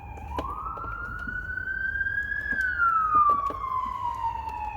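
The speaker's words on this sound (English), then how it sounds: "there's always sirens in this damn videos" Police siren wailing outdoors as it passes, a single rising and falling tone heard faintly from a distance, steady and alone with no talking.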